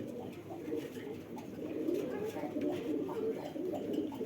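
Ali Bala 35 pigeons coo in low, soft, repeated murmurs, a steady close-by cooing that continues through the whole stretch with faint background noise.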